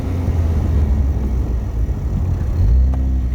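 A Saturn Sky Redline with a manual transmission pulls hard in first gear, its engine giving a loud, steady, close rumble that swells slightly near the end with no one talking.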